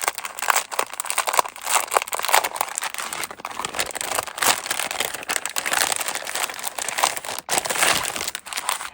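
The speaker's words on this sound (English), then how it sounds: "I'm sorry for the crinkling. I'm going to have to open it up live on my video." Plastic packaging on a parcel of craft supplies crinkles and crackles continuously as it is pulled open, close up and fairly loud, with no talking.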